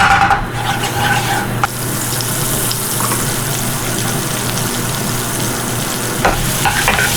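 Mixed vegetables sauté in a pan with salt, sizzling loudly and continuously, with scraping stir strokes and brief clatters along the way.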